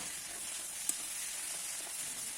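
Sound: ginger and cumin paste sizzling in cooking bottle gourd

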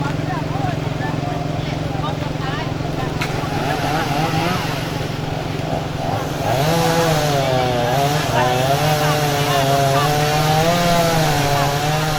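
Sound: chainsaw cutting fallen tree branches

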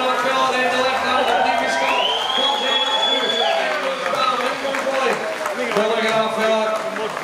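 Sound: crowd cheering at sheep shearing contest

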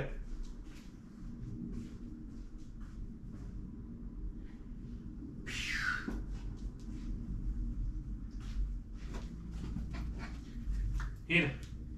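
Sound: dog panting and whimpering

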